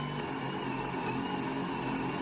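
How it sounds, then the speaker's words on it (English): A power drill runs continuously, boring holes through wooden joists with a steady, loud, grinding whine and no pauses. "And then if Scott drills through"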